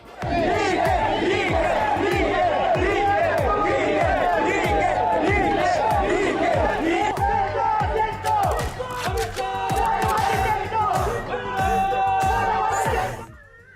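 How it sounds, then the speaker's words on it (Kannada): Siddaramaiah's supporters shout political slogans for him as a dense, loud crowd, with repeated rhythmic chanted bursts and cheers carrying steadily throughout before dropping off at the end. "ಸಿದ್ದರಾಮಯ್ಯ ಬೆಂಬಲಿಗರು ಕೂಡ ಸಿದ್ದು ಪರ ಘೋಷಣೆ ಕೂಗಿದ್ರು"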